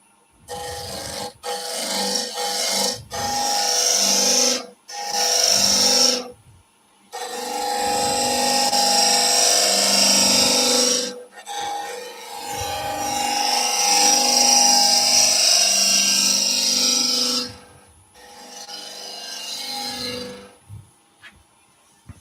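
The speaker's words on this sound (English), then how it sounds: "So let's go with a nice small gouge," Small gouge making gentle cuts in wood, part of carving an epoxy resin vase: steady rasping scrapes in separate bursts, some short and some long, close and clear with no talking.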